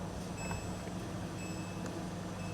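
A biosafety cabinet's door height alarm gives faint, repeated electronic beeps over the cabinet's steady low fan hum, with no talk.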